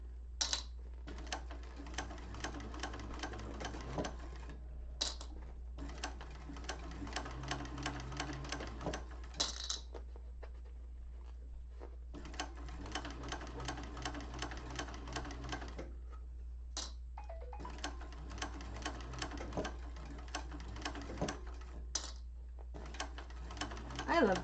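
A sewing machine stitches a seam on a bowler bag in bursts of rapid, steady mechanical ticking, stopping and restarting several times, fairly faint over a low steady hum.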